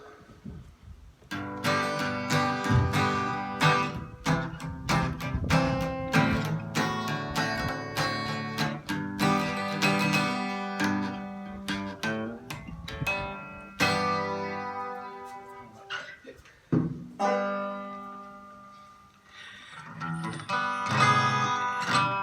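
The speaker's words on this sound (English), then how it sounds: "this is the kind of guitar they play in bluegrass music or folk music" A full-bodied, large-bodied acoustic guitar of the kind used in bluegrass and folk, strummed and picked close up, ringing chords and runs with a deep, resonant tone, played alone with brief pauses.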